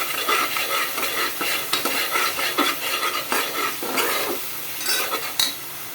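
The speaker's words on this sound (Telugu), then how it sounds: "వేసిన తర్వాత తిప్పండి ఒకసారి" Kasuri methi and garam masala being stirred through in a frying pan: steady scraping and clinking of a spoon against the pan over a constant sizzle, with several sharper knocks, close and fairly loud, no talking.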